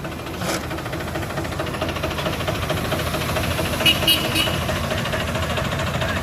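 A John Deere 5055E tractor engine runs with a steady, close, mechanical rumble and faint knocking throughout as the tractor is driven, with no voices.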